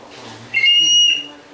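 A person's voice imitates a very high whistle register, producing one piercing, thin, sustained note about half a second long, alone after a quiet moment.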